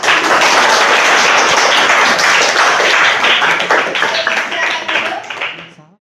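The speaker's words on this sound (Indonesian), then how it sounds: "Oke, kita kasih tepuk" A room full of participants in an online journalism class claps in a dense burst of applause that holds steady and then thins out and fades, with a few voices mixed in.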